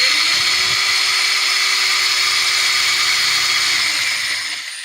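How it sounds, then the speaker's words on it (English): A steady high-pitched whine of a power drill boring through metal, running continuously for several seconds, then winding down at the end. "just take a regular drill with just a drill bit that you can drill through metal"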